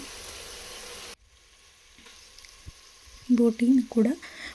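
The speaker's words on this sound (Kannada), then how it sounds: "ಸ್ವಲ್ಪ ಎಣ್ಣೆ ಹಾಕಿ ಒಂದೆರಡು ಸೌಟಿನಷ್ಟು ಮಸಾಲೆ ರುಬ್ಬಿದ್ವಲ್ಲ ಅದನ್ನ ಹಾಕ್ಕೊಂಡಿದ್ದೀನಿ" Ground masala paste sizzles loudly in hot oil for about a second, a harsh broad hiss that cuts off abruptly and is followed by quiet kitchen sounds and then a person speaking.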